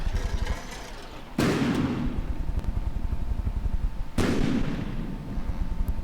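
Turret test firing in the naval building game From The Depths: two heavy, booming shots several seconds apart, each a sharp loud blast trailing off into a rumbling decay over a low engine hum.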